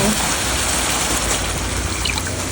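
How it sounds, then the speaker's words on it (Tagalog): Water poured into a pan while making a creamy meatball sauce, a steady broadband gushing and splashing that runs loud and unbroken for the whole moment, with a faint voice underneath. "Lagay tayo ng water."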